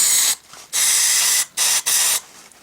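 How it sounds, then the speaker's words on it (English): An aerosol can of chrome paint sprays in several hissing bursts, one long and a few shorter, close to the microphone with brief pauses between. "shake this stuff up and spray a little bit into the lid"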